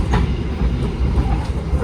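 The Pandalungan passenger train rolls along with a loud, steady rumble and a rhythmic clickety-clack of wheels on the rails, heard from on board with no talking.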